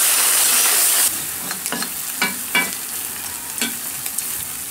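Meat sizzles in a large kazan cauldron as it is stirred, a steady hiss of frying broken by scraping stirs and clatters at irregular intervals, close and loud, with no talking.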